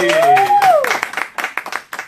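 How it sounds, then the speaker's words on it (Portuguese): A group claps to welcome a guest during a live session in a deputy's office, with a voice briefly at the start and then a short burst of applause that thins into scattered claps. "uma salva de palmas para a Letícia"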